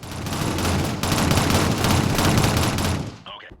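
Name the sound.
SMG gunfire bursts in Shadowrun FPS video game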